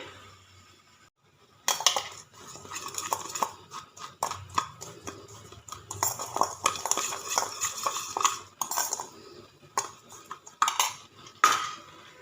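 Spoon clinks and scrapes against a metal bowl while garam masala and asafoetida are mixed into a stuffing for vegetables such as pointed gourd, a run of close, irregular taps and stirs with no talk.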